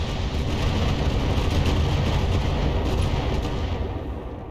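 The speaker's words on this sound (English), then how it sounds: "it's going to start really bombarding our Cyclops" Artillery bombardment in the BattleTech mech combat game, a dense, continuous roar of booming impacts and rumbling blasts sustained loudly throughout, with no pauses and no speech.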